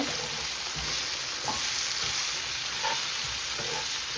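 Ginger and garlic sautéing in oil in a pan for prawn curry, with curry leaves added, give a dense, steady, hissing sizzle broken by a few faint stirring clinks. It is close and continuous, and nobody speaks.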